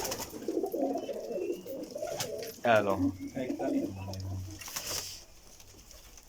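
Pigeons of imported champion breeds coo steadily in a loft, with soft repeated low calls running through most of the clip while someone talks nearby.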